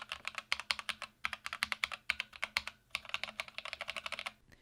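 Modded Akko 3068 mechanical keyboard typed on in steady fast bursts of sharp, fairly high-pitched clacks, with short pauses between runs of keystrokes; close and clear, no voices.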